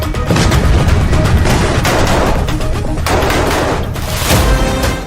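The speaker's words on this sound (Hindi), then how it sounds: "लेकिन पहले देखिए राफा फ्रंट पर बारूदी तांडव का लेवल" Dense gunfire and explosions on the Rafah front in Gaza, with rapid bursts of shots and heavy booms rolling together into a loud, continuous barrage.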